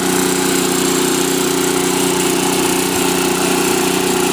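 A Sears snowblower engine runs at high speed, fully warmed up, with a loud, steady, unbroken mechanical drone and constant vibration close by, no pauses or revving changes.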